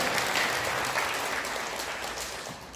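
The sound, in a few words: audience applause for the pastor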